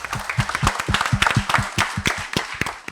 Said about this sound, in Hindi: तो एक बार इन लोग की मेहनत के लिए तालियां हो जाए।